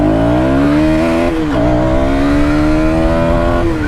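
A motorcycle engine accelerates during a ride, a loud close harmonic drone climbing in pitch, dipping briefly around mid-clip as a gear shifts, then pulling steadily upward again with no talk.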